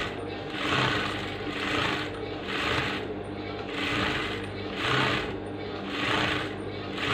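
A sewing machine stitches smocking on a frock with elastic thread, running in close, loud bursts of rapid needle hammering that pulse evenly about once a second, with a steady motor hum beneath and no speech.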